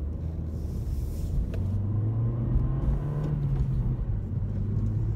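2019 Toyota Corolla XSE Hatch with a manual gearbox accelerating in a roll-on, its engine note rising in pitch as a droning rumble under road noise, heard from inside the cabin.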